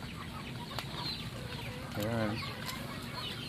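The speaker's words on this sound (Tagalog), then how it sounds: "nagpapakain na kami ng mga alagang manok at pabo" Pet chickens and turkeys at feeding time on a farm, a few clucks and fowl calls scattered through steady outdoor noise, with a brief louder call near the middle and a short spoken word.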